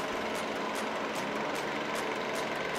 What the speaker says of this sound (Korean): 엔진 소리도 일정하고 좋습니다.